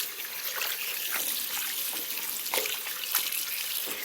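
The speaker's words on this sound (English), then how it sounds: "So I'm just going to finish rinsing this in the cool water" Cool running water streams steadily from a tap as a finished cross stitch piece is rinsed, a soft continuous trickle and splash with occasional small drips, close and fairly quiet.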